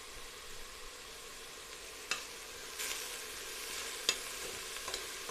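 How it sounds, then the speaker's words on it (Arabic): Vermicelli sautéing in oil in a pan while it browns lightly, a soft, steady sizzle with a few faint stirring scrapes and no talk. "هسيبها كده تتشوح وتديني اللون البني الخفيف جدا"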